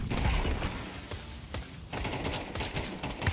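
Rapid gunfire in the video game Counter Strike 2, a dense, loud burst of repeated shots with crackling reports that continues for the whole stretch, with no talk over it.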